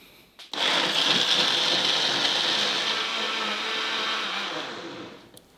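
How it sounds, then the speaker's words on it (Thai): A blender whirs steadily as it purées plain oat milk with water, a continuous loud motor drone lasting several seconds after a brief start, then cutting off at the end. "ตามด้วย นมข้าวโอ๊ตรสจืดครับ แล้วก็น้ำเปล่าครับ เสร็จแล้วก็ ปั่นให้ละเอียดดีเลยครับ"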